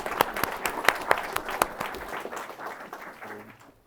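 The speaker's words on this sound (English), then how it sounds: "I think a big round of applause, ladies and gents" Wedding guests at a ceremony applaud, a brief burst of sharp, fairly close claps that thins out and fades over a few seconds.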